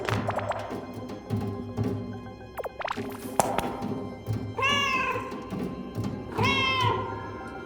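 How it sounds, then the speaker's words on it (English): A cat in a video game meows twice inside a very large metal space, each drawn-out cry ringing with a long echo over earlier thumps and taps. "the meow actually properly echoes depending on the environment. This is a very large metal place, so it echoes more"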